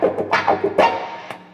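A muted electric guitar is scratched in a choppy rhythm through a wah pedal set for a rough edge, the riff giving a few short, percussive strums that quickly die away.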